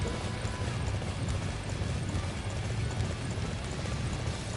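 Steady clip-clop of horse hooves trotting in a continuous rhythm, loud and close, with a dense noisy background throughout, in the video game Dynasty Warriors 9.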